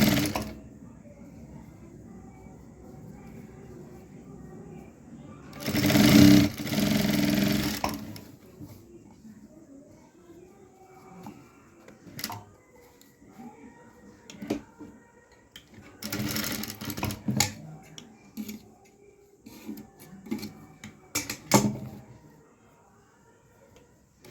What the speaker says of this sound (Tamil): அப்படியே மடித்து தையல் போட்டுக்கிறோங்க